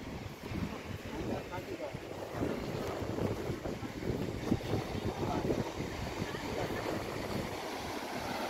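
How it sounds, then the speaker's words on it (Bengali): Constant rushing surf and wind buffeting the microphone at Digha beach at dawn, with waves churning steadily along the shore and faint voices mixed in. "দেখো এখন জলের কিন্তু ঢেউটা ভালোই আছে, স্পিডে আছে।"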